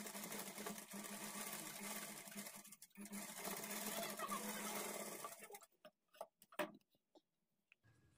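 A sewing machine stitching a blouse seam runs in a fast, even rattling whir for about five seconds, then stops and gives a few short bursts and clicks before falling quiet, with no talk over it.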